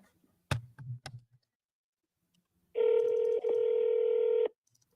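A phone is dialed again and again, with a couple of short tone beeps followed by a long steady electronic dialing tone that has a brief break in the middle, loud and clear with no talk over it.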